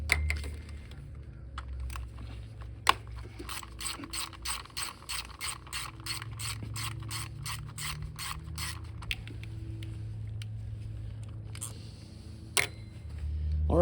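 A ratchet clicks rapidly and evenly, close up, while coil pack bolts are worked loose on a Toyota 4Runner with a 5VZ-FE engine, the pawl ticking in a long steady run with a few metallic taps and clunks.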